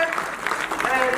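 An audience at a Hindi Day award ceremony and poets' gathering applauds to welcome guests, a brief burst of steady clapping with talk mixed in.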